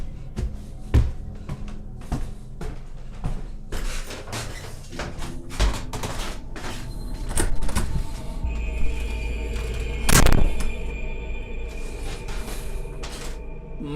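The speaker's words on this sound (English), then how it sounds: "the door just slams on me." A door slams shut at night in a house, leaving a loud sharp bang and rattle after some quieter knocks and shuffling, then a low rumble. Nobody speaks.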